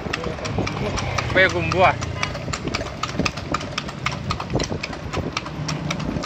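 Hooves of a horse pulling a bendi cart clip-clop in a steady rhythm along a market street in Padang, with a close engine hum underneath and people talking over it.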